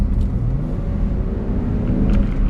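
A BMW X3 E83 3.0si M Sport with its 3-litre petrol engine accelerating hard, a loud steady engine roar and road rumble heard from inside the car throughout.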